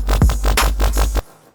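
Loud, thick synth bass from a Serum 2 patch with a sub layer sent through soft clipping and EQ, playing a short phrase with a swooping low pitch bend before cutting off abruptly, with no talking.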